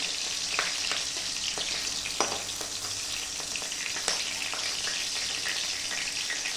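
Green chillies frying in a pan, a close, steady hissing sizzle with occasional faint clicks and utensil taps throughout.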